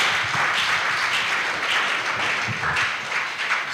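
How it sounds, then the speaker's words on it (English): A youth summit audience breaks into loud, sustained applause to welcome a distinguished guest speaker, a dense wash of clapping from a large room holding steady throughout. "Ladies and gentlemen, with a resounding applause, let's welcome Mr. or His Excellency Rashid Ibrahim Esquire."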